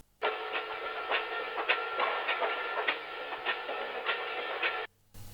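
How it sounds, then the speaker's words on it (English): Vinyl crackle texture laid over hip hop drums, a steady dense hiss with scattered clicks and rhythmic ticking pulses running continuously for about five seconds before cutting off abruptly. "I added a sort of vinyl texture which sounds like this"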